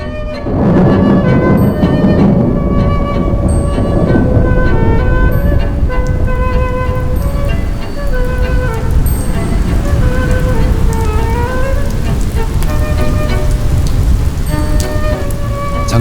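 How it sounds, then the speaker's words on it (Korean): Heavy summer downpour on sand dunes and grass, a dense, steady roar of rain drumming continuously throughout with no let-up. Music plays underneath. "장대비가 쏟아진다."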